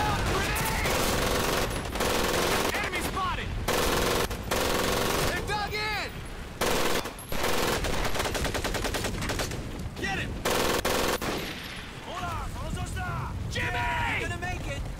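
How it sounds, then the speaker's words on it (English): Japanese Lewis-type machine gun in a Pacific war game, firing in long loud sustained bursts with brief pauses, layered with other gunfire and battle noise, with voices talking over it. "that's a Japanese version of the Lewis gun"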